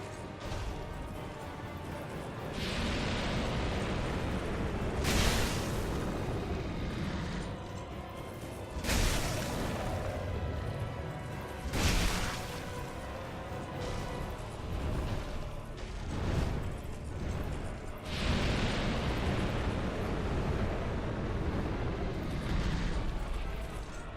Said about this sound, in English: Breathe fire, boy.